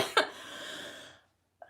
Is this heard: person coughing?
yes